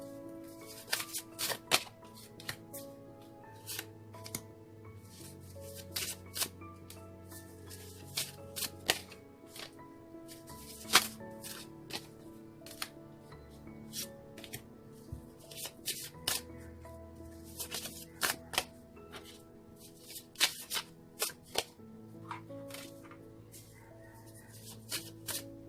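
Oracle cards being shuffled in repeated crisp riffling bursts, close and moderately quiet, with soft background music underneath and no talking.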